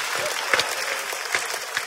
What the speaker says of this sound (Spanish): Un fuerte aplauso para la amiga